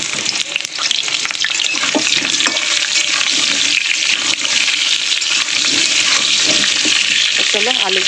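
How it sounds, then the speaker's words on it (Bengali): Potatoes frying in hot oil for a spicy dish, giving a loud, steady crackling sizzle throughout, with occasional stirring and a brief voice near the end. "তো আলুগুলো আগে ভেজে নেওয়া যাক।"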